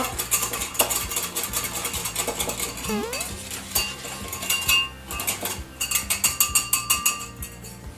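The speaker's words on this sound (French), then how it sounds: "Petite pointe de maïzena. On mélange bien." Spoon clinks and scrapes against a bowl in quick irregular strokes as a shrimp filling is mixed with a pinch of cornstarch, with music playing underneath.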